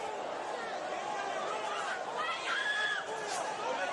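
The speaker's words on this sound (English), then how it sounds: "Crowd getting excited." Excited spectators at a boxing match: a steady, fairly distant roar of crowd noise swells slightly, with cheers and high whistles rising near the end.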